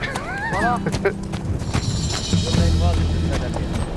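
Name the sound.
Arabian horse neighing and hooves clip-clopping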